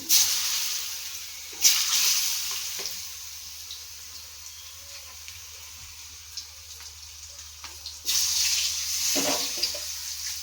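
Raw chicken rinsed under a running tap for a simple Bengali chicken dish: a steady hiss of flowing water with louder splashing bursts near the start and again toward the end, no voices.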